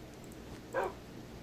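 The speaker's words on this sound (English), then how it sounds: "This dog really wants to be your pet." A dog in the Minecraft video game gives one short, faint whine, a brief tonal whimper over a low steady background hum.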